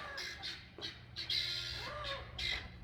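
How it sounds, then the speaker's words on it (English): A chicken squawks repeatedly in sharp, agitated bursts, a series of harsh alarm calls at moderate distance. "one of the chickens is raising hell"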